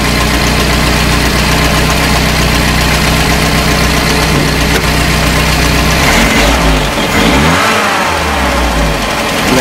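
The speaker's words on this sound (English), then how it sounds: "And that's from idle to acceleration." A 1968 Commer 2500 van's engine idles steadily and loudly up close, then revs up as it accelerates near the end, with a slight knocking texture in the running note.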